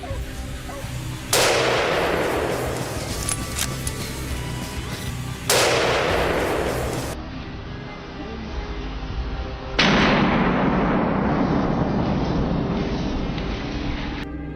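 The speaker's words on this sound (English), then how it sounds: "I chambered around, aimed along the boar's path, and pulled the trigger" Three loud rifle shots ring out during an outdoor wild boar hunt, each a sharp crack followed by a long, rolling echo that fades over several seconds.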